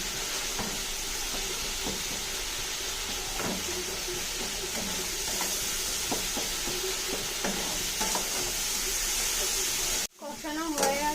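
Masala sautéing in a pan while being stirred for a cauliflower, potato and paneer curry, giving a steady close sizzle with soft scraping strokes, ending in a brief cut to talk.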